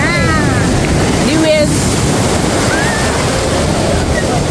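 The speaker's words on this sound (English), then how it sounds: "These waves are real big" Loud surf roars continuously up close at Maracas Beach, with wind buffeting the microphone and voices shouting over the water.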